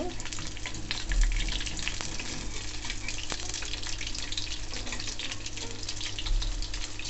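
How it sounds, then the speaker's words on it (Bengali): Pakoras fry in hot oil, a continuous dense sizzle and bubbling at close range, with a couple of louder bumps as pieces are flipped and no speech. "পাকোড়াগুলো আমি হচ্ছে উল্টিয়ে দিচ্ছি"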